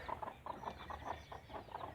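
Hens cluck in a steady, close-up stream of short repeated calls, overlapping one another with a low rumble underneath.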